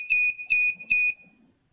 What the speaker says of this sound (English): alert buzzer